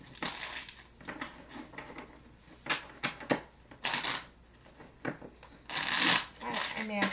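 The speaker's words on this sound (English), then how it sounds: "let me just give these a little bit of a shuffle" Tarot cards being shuffled by hand in quick, crisp bursts of riffling and sliding, repeating several times at close range with short pauses between.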